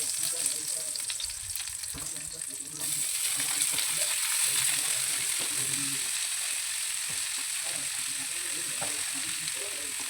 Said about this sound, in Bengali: বাঁধাকপিটা দিয়ে এর মধ্যে ভালো করে আমি একটু ভাজা ভাজা করে নেব